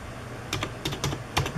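Keystrokes on a Smith Corona SD 300 electronic typewriter in memory mode, a quick uneven run of close clicking taps with no talking over them.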